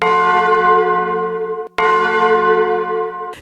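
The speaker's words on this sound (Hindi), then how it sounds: "मंदिर की सारी घंटियां एक साथ बज उठीं" Temple bells peal together in a loud, sustained, ringing wash of overlapping tones that cut off abruptly, then strike again and ring on.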